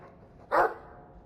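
A single short dog bark from the video game Dragon Age II, one sharp burst standing out over a quiet background hum.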